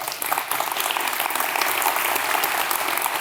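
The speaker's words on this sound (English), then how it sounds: "Do you even know why you're applauding them?" Steady, dense applause from an audience at a Friendswood State of the City Address, honoring team members asked to stand, sustained and evenly loud throughout with no talk over it.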